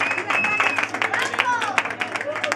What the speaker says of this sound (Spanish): Un aplauso al puto Juan